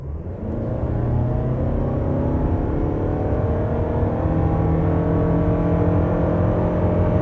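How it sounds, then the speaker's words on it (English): A 2020 Toyota RAV4 Hybrid in sport mode revs up hard and holds a steady, rising roar as it accelerates continuously from 0 to 100, loud and close throughout. "we'll do a 0 to 100 test for you"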